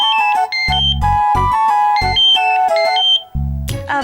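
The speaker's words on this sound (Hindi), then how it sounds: "अब प्रेम, जरा फोन देख लीजिए ना" A phone rings at home with a bright electronic melodic ringtone, stepping through chirpy tones in a repeating pattern, loud and close, broken by short bursts of dramatic low musical hits.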